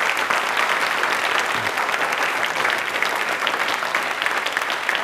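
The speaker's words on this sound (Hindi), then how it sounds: "तो एक बार तालियां जोरदार होनी चाहिए" Steady, dense applause from a studio audience during a Hindi Rajbhasha Pakhwada quiz programme, continuous and fairly loud throughout with no voices on top.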